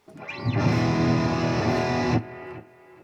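A sustained, gritty chord from an electric guitar through a Fender Yngwie Malmsteen Overdrive pedal into a Roland Cube 80 amp rings loudly for about two seconds, then cuts off to a quieter fading tail.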